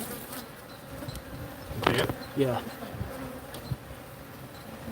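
Aggressive Africanized honeybees, a notably defensive hive, buzz in a steady drone close by, with a couple of short spoken remarks breaking in around the middle.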